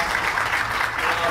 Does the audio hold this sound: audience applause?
yes